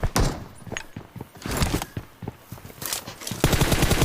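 Rapid bursts of gunfire from a bot in a first-person shooter video game, loud and close, with clustered sharp shots in uneven volleys across the clip.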